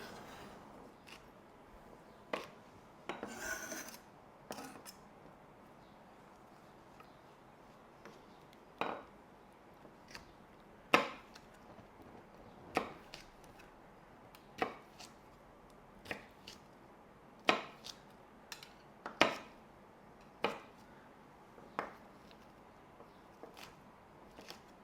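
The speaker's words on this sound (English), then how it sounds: "cut them into about 2 or 3 inch lengths" Knife strikes a cutting board while slicing de-spined nopal cactus paddles into short strips, a series of sharp, irregular clicks and taps close by, spaced a second or two apart, with no talking.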